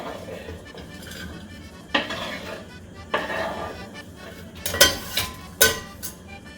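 Diced food tumbles into a pan with a few sharp metallic clanks and scrapes of a utensil against the pan, spaced irregularly over a low background hum.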